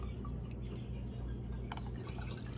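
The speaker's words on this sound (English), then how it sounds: "I'm just going to be lazy and fill this up 3 times." Distilled water poured from a measuring cup into a bottle, a steady close trickle and splash running through the whole stretch, with faint drips at the end.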